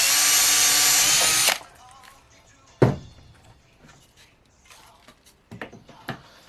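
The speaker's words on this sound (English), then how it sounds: "chuck it up in a drill and drill a little sample hole" A power drill whirs loudly and steadily for about a second and a half, then cuts off, followed by a few scattered knocks and light clatter.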